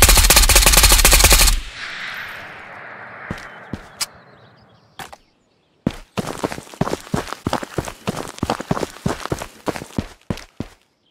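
Close, loud AK Alpha rifle fire in the game Ghost of Tabor: an opening full-auto burst, then a few spaced single shots with metallic handling clicks, and finally a longer string of rapid shots.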